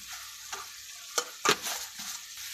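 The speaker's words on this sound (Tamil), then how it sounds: "எல்லாத்தையும் சேர்த்து நாம் கிளறி விட்டுடலாம்" Spiced masala for mutton biryani, with black pepper added, stirred and fried in a pan: a low sizzle runs throughout, broken by a few sharp spoon scrapes and clatters, close and with no talk.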